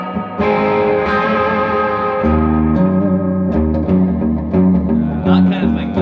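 Electric guitar run through a reverb pedal with tremolo, ringing out sustained chords and notes with a wet, washy surf-style echo tail, loud and continuous with no talking over it.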